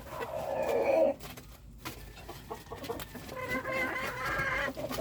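Hens close to laying cluck nearby, with a loud burst at first, then softer scattered clucks and bird calls rising again toward the end.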